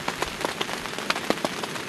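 Steady rain patters on a nearby tarp shelter at a campsite on Phu Soi Dao, with dense irregular drops tapping continuously throughout.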